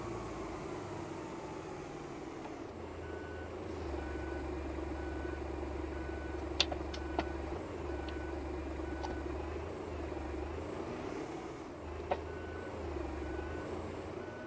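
Bus reversing beeps in Euro Truck Simulator 2 sound as a steady run of evenly spaced electronic pips over a low idling diesel rumble, with a couple of brief clicks partway through and no talk.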